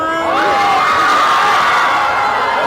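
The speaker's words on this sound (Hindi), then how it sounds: "बॉलीवुड दिवा कैटरीना कैफ की एक झलक पाने के लिए भीड़ उमड़ पड़ी" Dense crowd cheering and shouting in Patna as a Bollywood actress arrives to open a Kalyan Jewellers showroom, loud and continuous, with high shrieks and whoops rising above the roar.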